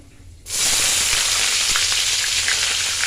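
Onions drop into hot spice paste for a spicy meat curry and burst into a loud, close, continuous sizzle after a brief quiet moment.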